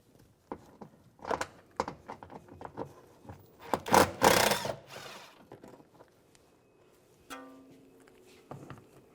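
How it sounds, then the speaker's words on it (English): Screws being removed with an 8mm socket from the headlight area of a 2004-2010 BMW X3, heard as scattered close ratcheting clicks and rubbing scrapes with a louder grinding burst midway and a final short mechanical rattle. "I'm going to take some of these screws out, use a 8mm socket, take this one out right here."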